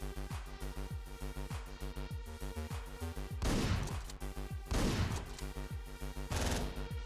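Gunfire in the game Hotline Miami breaks out in three loud bursts of rapid shots over a steady background of game music.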